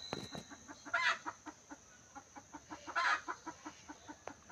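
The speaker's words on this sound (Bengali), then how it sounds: "সকালবেলা মুরগির কলকাকলি শোনা যাচ্ছে" Chickens cluck softly in a misty morning yard, a rhythmic string of short clucks with two louder squawking bursts, moderately distant and fairly quiet.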